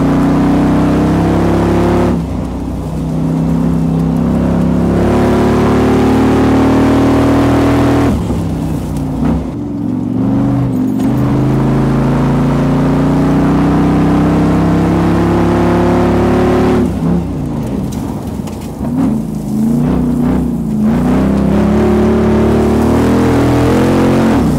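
Jeep fitted with a swapped Corvette LS V8 engine, loud and close, holding a deep rumbling rev with several surges of acceleration and brief throttle lifts, continuous with no talking.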